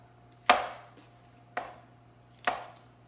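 Three crisp knife strokes through mushrooms onto a cutting board, each a sharp chop with a short decay, spaced about a second apart, close and clear with no talking.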